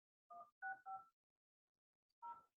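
Four short touch-tone dialing beeps during a call to a council member, three in quick succession and then one more after a pause, clear and close in an otherwise quiet background.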